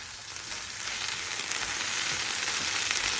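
Okra sizzles while frying in a pan, a steady, soft hiss that holds even and quiet throughout with no talking.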